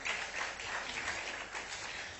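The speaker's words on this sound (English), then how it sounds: "Put your hands together. Don't stop clapping." An audience claps steadily at the grand finale of a young historian competition at Nile University Abuja, a dense, even patter of hands heard from within the hall.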